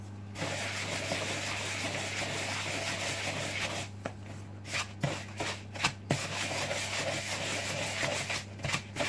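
A wooden spoon stirring cupcake batter in a bowl, giving a steady close rubbing and scraping with a few sharper knocks against the bowl, while a constant low oven hum runs underneath.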